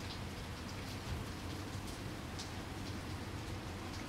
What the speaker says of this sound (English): During a dark, rainy night, a warrior entered the temple.